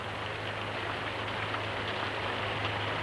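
Steady rain falling outdoors, a dense continuous hiss with a low hum underneath, even and unbroken throughout with no voices.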